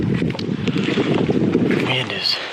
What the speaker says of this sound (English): the wind has gotten up now to the point where you just about can't hear anything